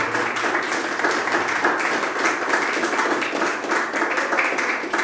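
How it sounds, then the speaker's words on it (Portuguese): Sustained applause from a church congregation during a worship service, dense and even, continuing without a break at moderate loudness. "Receba, Senhor, esses aplausos."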